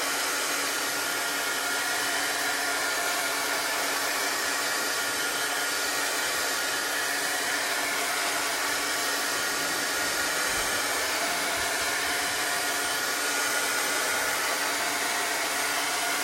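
A hair dryer blows steadily and loudly on chalk transfer paste for a home-decor sign, a continuous broadband whoosh that holds unbroken throughout with no talking over it.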